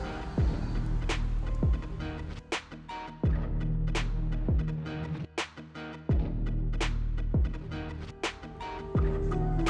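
Two 15-inch subwoofers inside a car pound out heavy, sustained bass under music. Deep tones throb loudly and continuously, punctuated by repeated sharp beat hits, with no talking over it.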